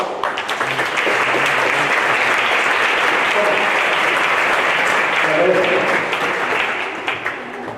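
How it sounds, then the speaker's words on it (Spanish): Sustained applause from an audience at a teachers' conference talk on defending, steady and dense for several seconds before thinning slightly at the end, with faint murmuring voices underneath. "Un aplauso."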